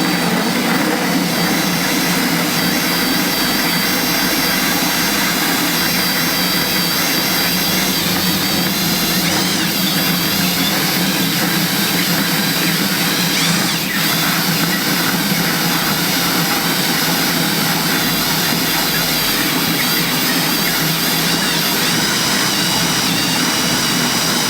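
A trigger-operated power tool cutting through a plastic gecko enclosure, producing a loud, continuous high whine with a harsh grinding edge that holds steady for the full twenty-odd seconds.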